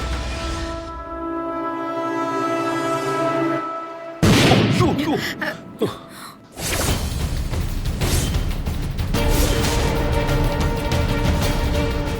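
A tonal whine gives way to a burst of sharp cracks and pops, followed by a sustained noisy crackle of bursting firecrackers, with voices talking alongside.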